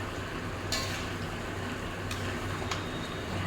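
Mutton chunks tipped into a pan of cooked spices, giving a faint, low sizzle with a few soft scrapes and clicks of stirring, close by and fairly quiet.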